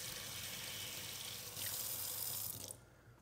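Hot water gushes steadily from a faucet fed by a tankless heater with a recirculating pump, a loud continuous hiss that surges briefly before the flow is shut off and fades to quiet.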